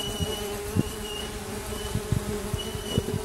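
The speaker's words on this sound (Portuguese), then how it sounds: "a quantidade de abelha aqui, ó. Bichinha tão nervosa" Agitated mandaçaia stingless bees swarm around a disturbed nest box, making a dense, continuous close-up buzz with occasional soft knocks and bumps.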